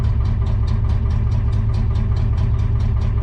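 A vehicle engine idles steadily with a low, continuous rumble and a faint regular pulsing throughout, fairly close and without any talking.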